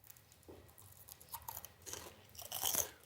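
A puffed pickerel skin chip with onion dip is bitten and chewed up close, giving a few short, crisp crunches that grow louder toward the end.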